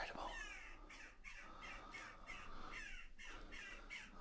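Crows caw and squawk repeatedly inside an abandoned historic church, the harsh calls coming in rough bursts with brief gaps, fairly loud and close over a constant low background rumble.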